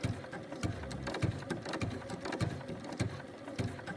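A sewing machine zigzag-stitching raw fabric edges makes a fairly quiet, rapid, even clatter that runs without a break, with no talking.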